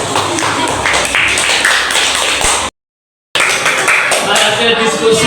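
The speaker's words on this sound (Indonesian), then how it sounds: "Tepuk tangan anak-anak semuanya." Children clapping in a classroom, a dense patter of hands mixed with shuffling and chatter, cut by a brief dropout of silence before the clapping and voices resume.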